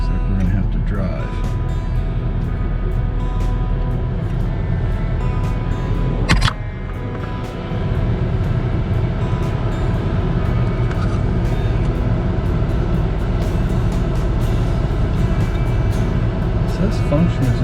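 A 2008 Acura RDX drives along with a steady low engine and road rumble inside the cabin, broken by a brief sharp click partway through; people talk over it.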